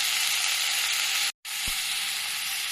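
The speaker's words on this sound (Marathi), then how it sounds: "हे बघा कांदा असं छान परतत आहे मी." Onion sautéing in a hot pan gives a steady, loud broadband sizzle that runs almost unbroken, with one abrupt brief cutout midway, and no voices.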